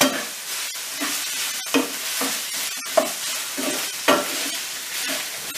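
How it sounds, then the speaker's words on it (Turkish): Meat pieces for yogurt kebab sizzle and fry in a hot pan over high heat while being stirred, with steady crackling broken by regular scraping strokes of the spoon, close and moderately loud, no talking. "Şimdi böyle karıştırırız da biraz daha pişecek."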